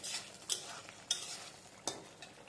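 Spice paste with bay leaf, cardamom and cinnamon is sautéed in a pan for a potato and pointed gourd curry, soft sizzling broken by several sharp spatula scrapes and taps, close and quiet.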